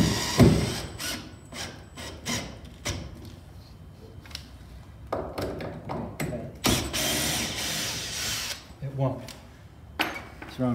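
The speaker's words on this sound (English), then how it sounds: "So the screws I use, these galvanized deck screws, they're about the right size, and this will bite real good into that" Galvanized deck screws being driven into wood framing make a run of ratcheting, grinding bursts with short pauses between drives, fairly close and loud.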